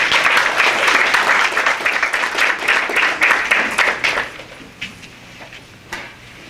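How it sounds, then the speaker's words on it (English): An audience at a mayoral campaign announcement applauds a speaker coming up, steady clapping from a crowd in a hall that tapers off into a few last isolated claps and quiet room noise. "Give her a hand clap."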